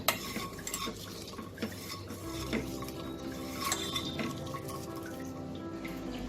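Hands mash and squeeze a puti fish mixture in a bowl, a close, continuous wet squelching broken by small clinks and taps against the bowl.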